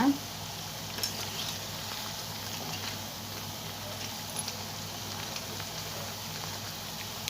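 Tattai, flat rice-flour snacks, frying in oil and being turned over, a steady low bubbling sizzle with occasional light clicks, a quiet voice now and then.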